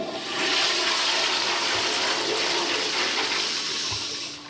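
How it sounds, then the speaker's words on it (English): A toilet flushing in a bathroom during a cleaning job, a loud steady rush of water that swells quickly and holds for several seconds before easing slightly at the end, with no talking. "So when you finish flushing it"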